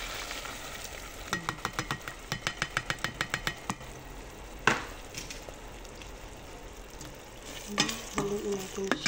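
Egg and tomato sizzle in a frying pan while a spoon scrapes and stirs in quick, regular strokes, then pauses before a few more clinks and stirs over the steady crackle.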